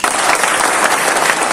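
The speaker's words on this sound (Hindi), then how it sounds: "तो उसके लिए इनके लिए जोरदार तालियां।" Loud, close audience applause at a celebration fills the whole moment, a thick continuous roar of many clapping hands with no pause, brief and intense.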